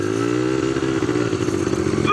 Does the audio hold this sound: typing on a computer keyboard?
no